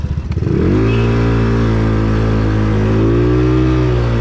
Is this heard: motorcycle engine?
yes